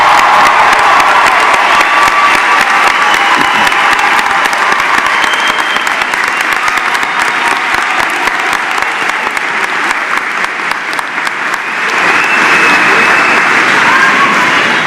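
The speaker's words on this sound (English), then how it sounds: "Let's give them a big round of applause." Sustained, loud audience applause fills a commencement hall for graduating students at West Liberty University's spring ceremony, dense clapping continuing steadily throughout with a few cheers mixed in.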